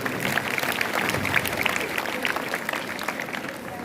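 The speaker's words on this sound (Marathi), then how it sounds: "जोरदार टाळ्या झाल्या पाहिजे सरांसाठी." Sustained applause from an audience at a school's birth-anniversary function for a local leader in Anagar, a thick, steady clatter of many hands with some voices mixed in beneath.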